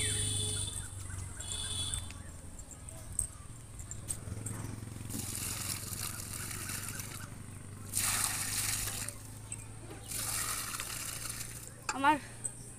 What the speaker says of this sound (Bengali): এভাবে জল তুলতে না খুব কষ্ট হয়